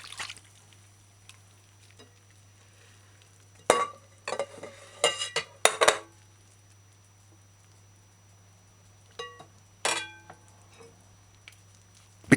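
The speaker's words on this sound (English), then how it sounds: "Strain mixture 2 or 3 times smooth." Pineapple drink mixture pushed through a fine mesh strainer, heard as scattered close stirring, scraping and splashing bursts separated by quiet gaps over a steady low hum.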